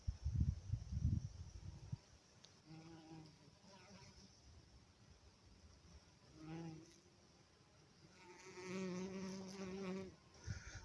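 Bees and other insects buzzing low and steady through a summer meadow, a faint drone rising and falling over about ten seconds, with a louder close pass near the start and brief swells later.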